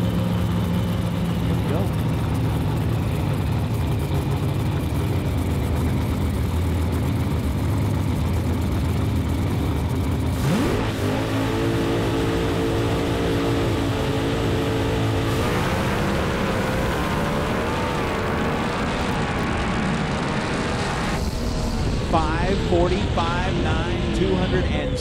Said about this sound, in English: we will let you listen to Doug Gordon star running on the solo here. As the motor goes through the gears